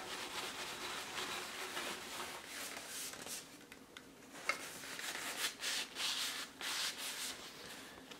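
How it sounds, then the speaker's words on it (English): A cloth rubs steadily back and forth, wiping excess scratch cover off the wooden stock of an old, rusty gun. The soft scrubbing is close and continuous, with no talk. "I'm going to wipe off all that excess scratch cover."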